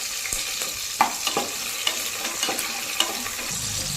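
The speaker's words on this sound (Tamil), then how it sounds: "வெங்காயத்தை நல்லா வதக்கிக்கலாங்க" Shallots, curry leaves and green chillies fry in oil in a pan with a steady, close sizzle, broken by a few sharp clicks and scrapes as a spoon stirs them.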